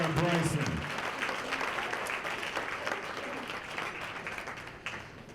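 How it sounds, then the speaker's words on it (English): A gala audience celebrating achievement gives a full round of applause for Agbar Bryson, dense steady clapping that starts strong and thins slightly, with a voice heard briefly over it at the start. "Another round of applause for my brother,"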